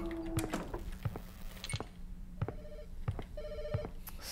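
A telephone rings inside a video game, its electronic bell sounding in short repeated bursts over a steady background with regular soft clicks and thuds.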